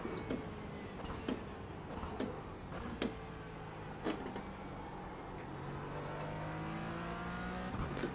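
A race car in a racing sim rolls through a cool down lap, its engine a low, steady hum with gently rising pitch under a series of faint, regular ticks, with no talk.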